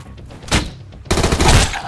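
A gun fires in the survival video game Sunkenland, with two loud, close bursts of rapid shots separated by a brief lull.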